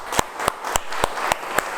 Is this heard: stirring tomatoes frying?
no